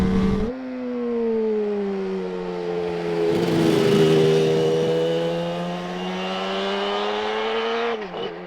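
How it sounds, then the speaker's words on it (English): A Suzuki RG500 motorcycle engine revs hard as the rider charges up through the gears on the road, a loud, close, sustained buzzing drone that dips briefly at the shifts near the start and end. "Charging through the gears, trying to get the most out of the motor"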